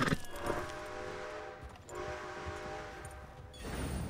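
A Red Dead Redemption 2 train sounds its horn in long, steady tonal blasts, the whistle holding with a brief dip midway, over a low rumbling of rail cars, fairly faint overall.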